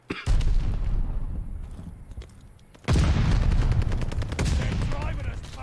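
Gunfire at a hard point in a Call of Duty match, dense rapid bursts of shots and booms close by, dipping briefly before a heavy renewed barrage, mixed under game voice chatter.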